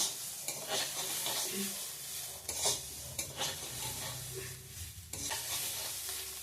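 Khichuri ingredients frying in oil as they are stirred, a dense crackling sizzle broken by repeated scraping and knocking strokes of a spoon against the pot, close and steady.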